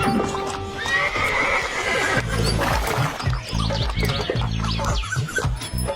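A horse neighs loudly, then hooves clip-clop steadily along a road in a cartoon comedy about a horse-drawn journey.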